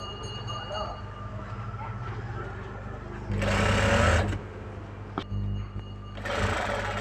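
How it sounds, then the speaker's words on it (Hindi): A sewing machine stitching a blouse, close and rhythmic, in two loud bursts of rapid mechanical chatter with quieter pauses, a brief click and soft handling between them. "इस तरह से हमने ये सिलाई लगा लिया है।"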